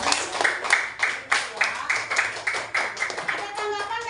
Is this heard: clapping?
yes